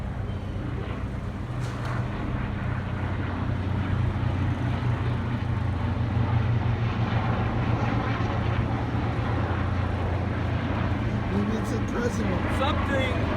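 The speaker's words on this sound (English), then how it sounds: "Look at this, we got three military helicopters." Three military helicopters pass overhead, a steady low rotor drone holding throughout, with a constant rumble and light wind buffeting.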